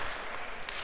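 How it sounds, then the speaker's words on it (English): Audience applause fills a university lecture hall during a computer science class, a dense, steady wash of clapping that holds evenly for under a second at moderate distance. "Maybe a round of applause"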